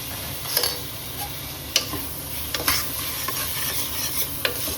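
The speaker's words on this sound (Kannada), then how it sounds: "ಈಗ ಟೊಮಟೊ ಹಾಕ್ಕೊಳ್ಳೋಣ." Tomatoes frying in a pan for a mushroom biryani, with a steady soft sizzle and the sharp taps of a spatula stirring and knocking against the pan at irregular intervals, close up and without talk.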